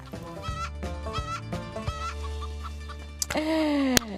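A hen clucks in a run of close, loud, harmonic calls with rising, then falling pitch, followed by a brief sharp click and a sustained squawking tone near the end. No one speaks over it.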